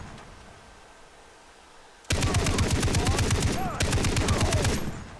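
Enemy gunfire rattles through a firefight in the video game Far Cry 3, with sudden loud bursts of rapid automatic shots that come in two long volleys split by a short pause.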